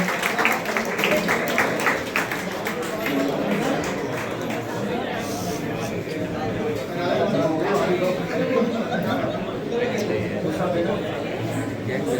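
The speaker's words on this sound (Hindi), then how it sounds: "जोरदार तालियों के साथ स्वागत अभिनंदन।" At a retirement farewell for Shri Vedlingam at Northern Railway headquarters in New Delhi, a crowd claps steadily while people chatter and call out across the room. The sound is busy and continuous throughout.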